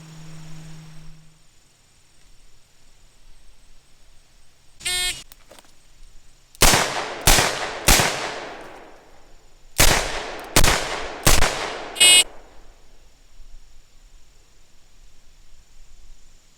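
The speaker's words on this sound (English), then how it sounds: "the shooter has to draw and fire 3 rounds right hand only, then transition the revolver to the left hand and fire 3 rounds left-handed only" A .44 Magnum Mountain Gun revolver is fired on a police qualification course. An electronic start beep is followed by six loud, sharp, close shots in two quick strings of three, with a short pause between them.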